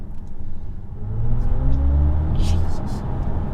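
An electric BMW i4 M50 accelerating hard on a road, a smooth rising whir and low rumble building steadily, up close and loud, with brief excited talk from inside the cabin.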